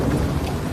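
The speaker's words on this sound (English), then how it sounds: "there's thunder and lightning, isn't there, going on" Heavy rain pours down with thunder rumbling through a storm in Italy's Emilia Romagna, a dense, loud, continuous wash of sound with no voices.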